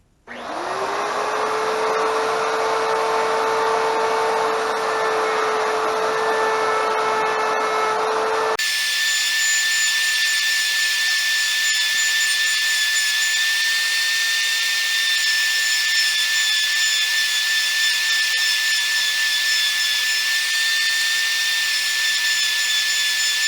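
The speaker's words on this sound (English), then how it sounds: "I think we're going to do a round over on both sides of this." An electric wood router rounds over the edges of a small wooden knob for a foot stool, a loud steady high whine that spins up, then shifts pitch and runs on continuously.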